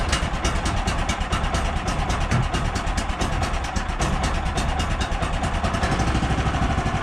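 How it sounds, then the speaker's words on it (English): A small gasoline engine on a sawmill fires up with one pull and runs steadily with a rapid, rattling putter, loud and close, holding an even idle throughout. "I'm near certain this is going to fire up with just a pull."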